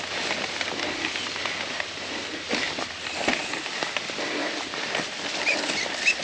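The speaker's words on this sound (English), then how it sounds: "It's raining quite a bit." Rain falls on a mountain bike trail as a steady, soft hiss of droplets with scattered small patters and crackles throughout, fairly faint and continuous without talk.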